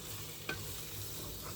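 Prawns cooking in a pan give off a faint low sizzle, with one brief scrape of a spoon stirring near the start.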